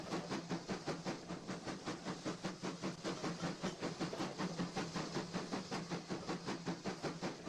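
A train rolling along tracks and crossing a bridge in a train simulator game, a steady rhythmic clickety-clack with hiss, even and continuous throughout, no voices.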